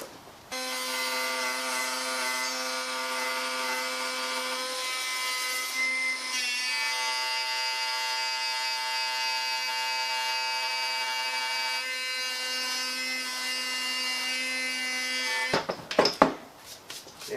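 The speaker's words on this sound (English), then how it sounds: "That just prevents it from bogging down the router too much." A router with a 1/2 inch bit cuts a mortise in wooden boards for a collapsible gallows Halloween decoration, giving a loud, steady high motor whine that runs unbroken for about fifteen seconds before cutting off into a few clattering knocks.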